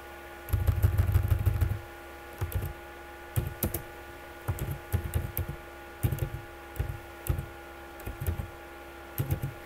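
Typing on a computer keyboard in short irregular bursts of close clicks, with a low hum under the first second.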